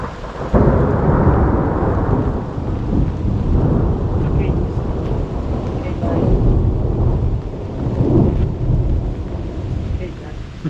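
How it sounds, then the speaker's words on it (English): A summer thunderstorm seen from a front porch along the Colorado Backcountry Discovery Route, with thunder rumbling low and loud over steady rain, rising and falling in rolls throughout. "Just sitting out here on our front porch watching the storm."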